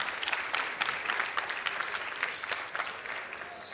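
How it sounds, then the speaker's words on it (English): A conference audience applauds at the close of a talk on designing and building chatbots, a dense, steady patter of many hands clapping, close and loud, for a few seconds with no voices. "But yeah, first applause."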